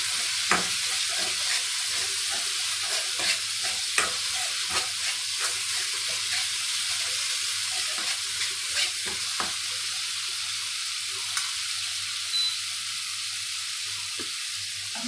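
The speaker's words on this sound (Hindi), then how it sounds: "इसमें थोड़ा सा ये चने का पानी डाल रही हूँ ताकि ये गलना जाए।" Chickpea water going into a chickpea curry as it sizzles and is stirred in the pan, a steady close frying hiss with scattered small pops and spoon clicks throughout.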